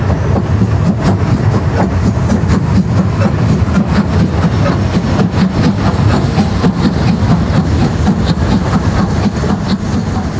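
Danish museum steam locomotive number 736 pulls a rail tour on the coastal line, a steady loud rumble with rhythmic clickety-clack from the wheels over the rail joints, heard close throughout.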